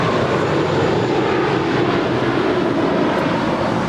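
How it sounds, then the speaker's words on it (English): A five-year-old American Airlines Airbus A321 departs Los Angeles International Airport for Dallas Fort Worth, its engines producing a continuous, close, loud rumbling roar with no voices. "2543 departing to Dallas Fort Worth. It's a 5-year-old Airbus A321."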